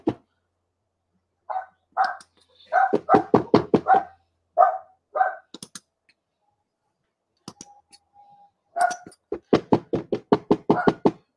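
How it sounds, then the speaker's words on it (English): A dog in an apartment barks in repeated bursts, near and loud, with short pauses between volleys and a faint tone in the middle. "She just barks and barks and barks and barks."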